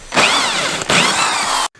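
A power drill bores through a pre-drilled hole in a tire, whining loudly and steadily in two close bursts before cutting off abruptly.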